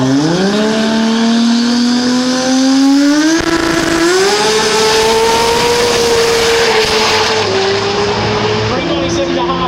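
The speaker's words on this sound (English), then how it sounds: "Clutch pedal in that Mitsubishi Eclipse, Billet 4G63, 2 turbochargers and 7 speeds, 2JZ." A Mitsubishi Eclipse race car with a twin-turbo billet 4G63 engine and seven-speed gearbox screams close by at a Willowbank, Queensland drag racing event, revving high through a long rising pull with a gear change, loud and continuous.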